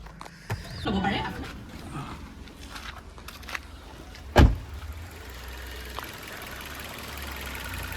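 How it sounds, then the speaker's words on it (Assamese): A Maruti Suzuki Ignis 4-cylinder petrol engine idles with a low, steady hum. A sharp knock cuts in midway, and voices are heard in the background. "মই ইঞ্জিনটো ষ্টাৰ্ট কৰি শুনাই দি আছোঁ আপোনালোকক"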